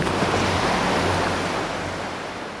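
Stormy wind and crashing waves on a lake, a steady, loud wash of surf and gusting air that holds throughout and eases slightly toward the end.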